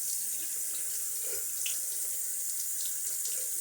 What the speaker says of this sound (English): Going to rinse out the side of the tub